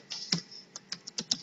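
Computer keyboard keys tapped at close range: several light, crisp clicks in an uneven rhythm, a slightly louder press near the start, in a quiet room.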